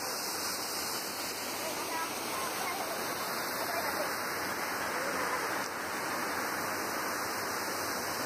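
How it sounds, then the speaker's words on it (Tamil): A waterfall at Yercaud gives off a steady, dense rushing roar that holds evenly throughout, with faint voices mixed into the background. "ஸோ அந்த ஃபால்ஸ் தான் இப்போ நீங்கள் பார்த்துட்ருக்கீங்க."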